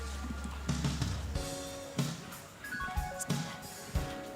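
A horse walks across a dressage arena at a para dressage world championship team event, with steady, fairly close hoof footfalls landing in an even rhythm over a soft background murmur.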